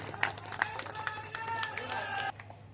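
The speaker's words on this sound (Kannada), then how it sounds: "ಹರ್ಷ, ಚಪ್ಪಾಳೆ ನಿರಂತರವಾಗಿ ಬರ್ತಾನೆ ಇರಬೇಕು." Audience clapping at a ceremony honouring a government minister at a foundation-stone event, a short stretch of scattered and steady hand claps with crowd murmur and a faint steady hum underneath.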